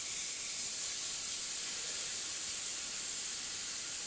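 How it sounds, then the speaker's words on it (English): Bacon sizzles in a pan, a continuous bright hiss and crackle that stays steady and fairly loud throughout, with no voices over it. "As you can hear, it's sizzling away there."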